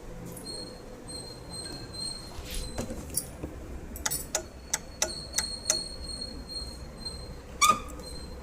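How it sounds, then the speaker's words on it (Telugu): A TVS Scooty Pep self-starter with a fault gives a soft, rapid series of light metallic ticks, about seven in quick succession after a few scattered earlier clicks, close against a quiet background. "అయితే చిన్నగా సౌండ్ వస్తూ ఉంది, టిక్ టిక్ అని."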